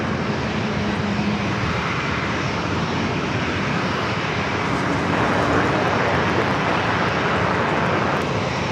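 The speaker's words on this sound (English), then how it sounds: "It's a 787-8 Dreamliner coming from Tokyo Narita." A Japan Airlines Boeing 787-8 Dreamliner from Tokyo Narita on short final into San Diego makes a sustained loud engine roar, broad and steady, swelling slightly toward the end with no voices present.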